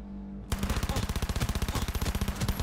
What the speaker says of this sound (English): nice little SMG action, a little fire